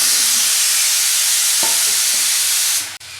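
Cut pumpkin and sweet potato hiss and crackle loudly in a kadai of oil left from frying katla fish, with a steady close sizzle, a few stirring clatters, and a brief thud near the end.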